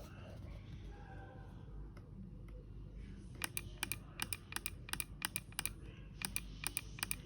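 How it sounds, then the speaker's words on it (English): A push button on homemade flight-simulator rudder pedals is pressed repeatedly, giving a series of sharp, close clicks in an irregular rhythm, heard faintly against a quiet room with a voice nearby. "So when we press it, maybe you can hear a click."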